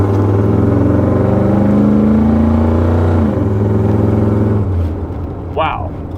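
A warmed-up pickup truck nearly out of gas runs with a loud, steady low rumble that eases off and drops lower near the end, with a brief high squeak just after.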